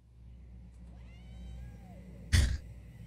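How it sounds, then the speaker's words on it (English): A cat meows in a short, rising and falling cry, then a loud, sharp sneeze-like burst lands near the end over a low background hum. "Oh, a small cat family."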